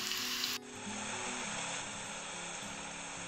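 Chopped garlic browns in hot oil over a slow fire, producing a quiet, even, continuous sizzling hiss heard alone.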